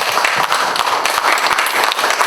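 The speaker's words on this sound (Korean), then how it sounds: "우리 얘기 나눠주신 5분께 박수 부탁드립니다" Loud, continuous audience applause for five speakers at the close of a talk show at an education conference, a dense wash of many hands clapping throughout.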